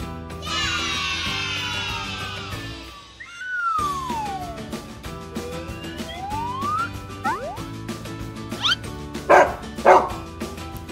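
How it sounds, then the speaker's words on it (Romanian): A dog barks a few short, sharp times near the end of a playful children's cartoon passage, set over background music with whistling sound effects. "E un câine!"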